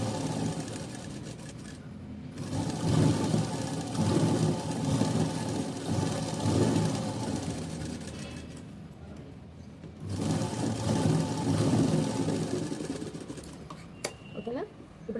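Sewing machine stitching a plain cotton blouse runs in a steady mechanical whir with brief stops, close by, while someone talks over it throughout.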